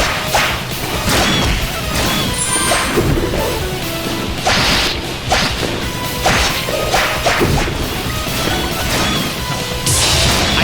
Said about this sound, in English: I hate the little delay they have with these explosions.